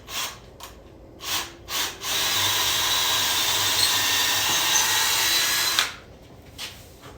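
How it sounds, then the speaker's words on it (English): A power drill bores through a wooden board for a fishing rod rack in a garage, a steady high whine lasting several seconds, framed by short bursts of the drill revving before and after. "got my drill."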